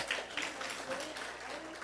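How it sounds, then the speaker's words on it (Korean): A church congregation claps during a worship service, a dense, continuous wash of applause mixed with voices, steady and moderately loud across the moment. "하나님께 박수 영광 돌립니다"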